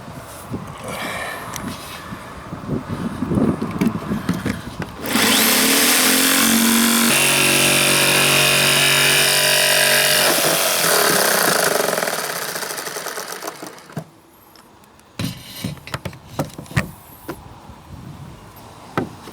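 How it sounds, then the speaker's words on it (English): A jigsaw cuts through a metal solar cable entry box, its blade buzzing loudly and steadily for several seconds, then cutting out before a few shorter, choppy bursts and handling noises. "But the jigsaw ought to do it."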